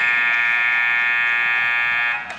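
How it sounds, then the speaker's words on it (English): Loud arena buzzer sounding the end of the first period at a youth hockey game, a single harsh sustained electronic tone that blares steadily for about two seconds and then cuts off. "That extremely loud buzzer signals the end of the first."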